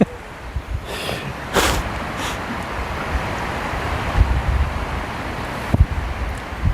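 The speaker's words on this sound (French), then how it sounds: "Des bons coups de vent." Strong wind gusts buffet the microphone at the shore as waves roll in, a steady loud roar with a few sharper bursts of surf and wind.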